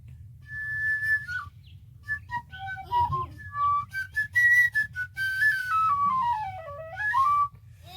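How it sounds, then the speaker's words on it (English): A penny whistle plays a medieval-style melody alone, bright held notes stepping and sliding up and down, with a low steady hum underneath. "So I thought for a high instrument I'd try out my penny whistle that I have."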